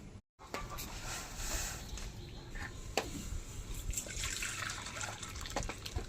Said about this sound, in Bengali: জলটা এবার একটা গামলায় নামিয়ে নেব।